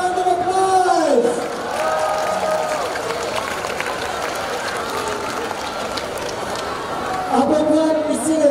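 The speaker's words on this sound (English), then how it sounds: "Let's give Debbie a round of applause!" A crowd at a tree lighting ceremony claps and cheers for Debbie. A spoken voice rings out at the start, then a steady wash of applause and whoops follows, and talking returns near the end.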